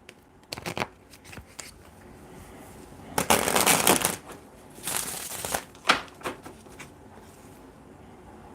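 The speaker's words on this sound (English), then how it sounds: "Let's get one more shuffle." A deck of tarot cards is shuffled in several bursts of riffling and flicking, with a dense central flurry and quieter taps between, close up and without talk.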